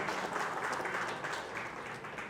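An audience at a meetup in Hyderabad claps and applauds steadily throughout, a dense wash of hand claps, moderately loud and uninterrupted.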